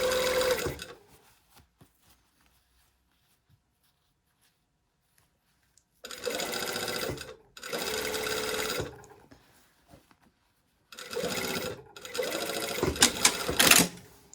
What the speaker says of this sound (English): now we're going to sew down the tape.